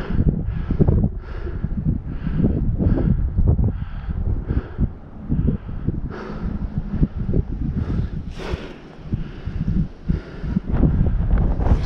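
Wind gusts buffet the microphone on a mountain trail, a loud continuous low rumble with rustling surges and brief lulls.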